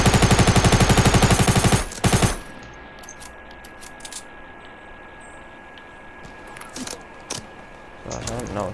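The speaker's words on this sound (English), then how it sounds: "Oh my god, everyone's shooting at me" Rapid automatic gunfire bursts loudly in a video game, a dense rattling volley for about two seconds, then a couple of shots, followed by quieter scattered shots and game noise over a low background.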